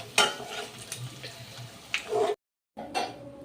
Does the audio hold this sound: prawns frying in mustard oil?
yes